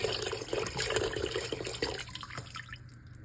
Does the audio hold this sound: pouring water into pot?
yes